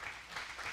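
Continuous applause from a church congregation, a steady wash of clapping at moderate volume with no voices.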